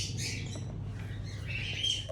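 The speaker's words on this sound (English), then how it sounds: "this is the entrance of the aviary of Mr. Azhar bhai" Birds squawk and chirp at the entrance of an aviary in the UAE, several overlapping harsh calls close by over a steady low background hum.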